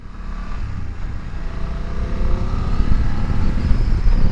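A BMW F900 GS motorcycle accelerates on a dual carriageway up to 70 mph. Its engine drones steadily under heavy wind rush that grows louder as speed rises.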